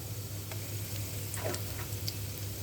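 Cumin seeds crackle in hot oil with dried red chillies and asafoetida, giving a faint, steady sizzle dotted with a few soft ticks and pops. No voices are heard.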